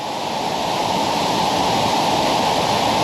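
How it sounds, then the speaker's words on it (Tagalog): Batwan Falls in Carawisan, San Remigio, Antique, swollen after a typhoon, roars as a steady, loud, close rush of falling water with no break and no voices. "And then yung tubig, merong waterfall dito."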